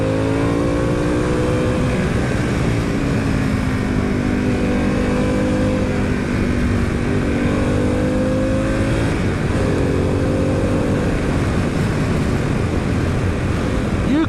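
A Harley-Davidson Pan America motorcycle pulling hard in low gears, a loud continuous engine drone rising in pitch through each gear, heard steadily and close over wind noise.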